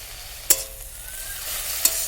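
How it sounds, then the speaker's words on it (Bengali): Thankuni leaves frying in a pan with salt and turmeric, with a soft steady sizzle and two sharp scraping strokes as they are stirred, no talking. "এগুলো দিয়ে আমি এবার ভালো করে নেড়ে চেড়ে মিশিয়ে নেব"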